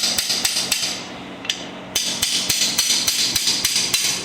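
A hammer strikes a ratchet on an engine bearing cap during a K5 Blazer engine build, about a dozen sharp metallic blows in a fairly steady rhythm, close and loud, with one short pause midway.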